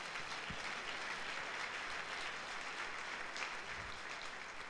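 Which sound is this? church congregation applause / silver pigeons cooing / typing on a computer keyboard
church congregation applause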